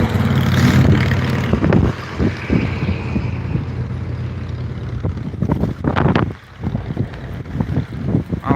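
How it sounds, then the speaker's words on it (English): Strong gusting wind roars across the microphone outdoors at a street protest, loud and continuous at first, then buffeting in uneven bursts. "Oh, it's so windy."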